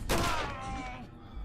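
A shot in a video game shooter: one loud, sharp blast near the start with a rumbling tail that fades over about a second.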